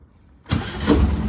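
A 1967 VW Type 3 Squareback air-cooled engine with synchronized carburetors catches after a quiet moment and settles into a steady, close idle.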